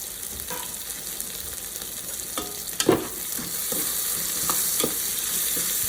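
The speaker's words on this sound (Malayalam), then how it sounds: "സബോള എപ്പോഴും ഒരു ലൈറ്റ് ബ്രൗൺ കളറാകുന്നവരെ വഴറ്റണം" Sliced onions sautéing in a pan for a quick chicken curry give a soft, steady sizzle. Occasional scraping stir strokes sound over it, with one firmer scrape near the middle, quiet and close with no voices.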